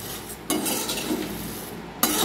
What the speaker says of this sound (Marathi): थोडे थोडे कढईमध्ये टाकायचे आणि गरम करून घ्यायचे